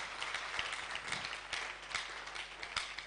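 Quiet, thin clapping from an audience at a live roadshow event, scattered hand claps with a few sharper individual claps standing out, heard at a distance.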